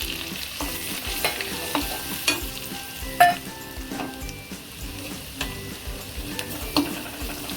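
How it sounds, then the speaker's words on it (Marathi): Spices fry in a pan with steady sizzling, punctuated by scattered clinks and scrapes of stirring, near and fairly quiet, with no talk. "मसाला आपला तळलेला आहे."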